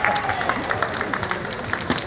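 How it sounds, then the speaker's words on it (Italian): Football supporters at a Pinerolo versus Lavagnese match clap steadily in a dense, continuous patter, with crowd voices chanting and shouting over the applause throughout. "Un applauso per noi!"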